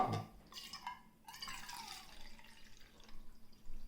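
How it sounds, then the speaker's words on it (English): Water runs and splashes into a can being refilled, a steady pouring wash with brief drips at the start, close by and fairly quiet, with no talking. "refill the can, 2 cans filled with water."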